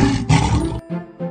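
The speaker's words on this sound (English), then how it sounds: "I hear a lion roaring in my ear." Lion roaring loudly and close, a rough sustained roar that breaks off abruptly, followed by a couple of lower grunting calls.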